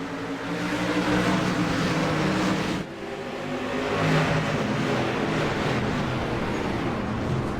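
Race cars roaring at full throttle after a green flag restart, a steady loud engine drone with one brief dip before the sound swells again as the pack passes.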